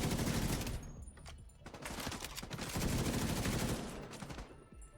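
Rapid sustained bursts of light machine gun fire in The Division 2, loud and close, with short pauses between volleys and dense rattling repeats throughout.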